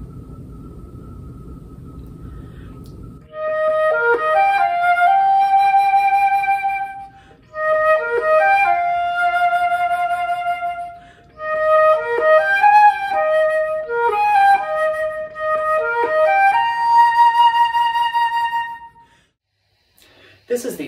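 A solo flute plays a short melody of clear sustained and repeated notes in phrases with brief pauses, close and moderately loud, after a few seconds of low rumbling noise at the start.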